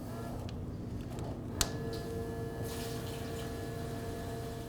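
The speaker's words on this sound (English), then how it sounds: "transfer the fuel from the original fuel tank to our new fuel tank" Fuel transfers from the original tank of a 1994-2004 Chevy S-10 into a new fuel tank, a quiet steady trickling, low flow with a faint pump hum and one small click.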